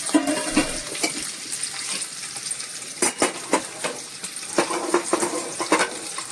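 Chopped ginger goes into hot oil already holding two chillies, giving a soft sizzle with irregular clinks and scrapes of a spoon against the pan, close and fairly loud, and no one speaking.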